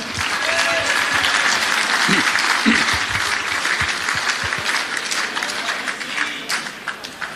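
A crowd at an Australian football league awards night applauds loudly and continuously, a dense roar of clapping with scattered voices and cheers mixed in.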